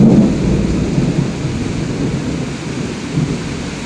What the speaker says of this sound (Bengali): দেখো জোর বৃষ্টি নেমে গেল, মুষলধারে বৃষ্টি নামলো।